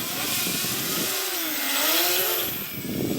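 Small XK X252 drone motor with a bad bearing pushed to full throttle, a close, steady whine that sweeps up and down in pitch over harsh buzzing vibration.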